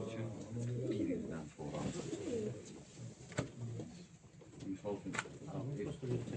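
Racing pigeons coo in soft, repeated throaty calls near a loft during a 240 km race stage, with people talking in the background over the birds.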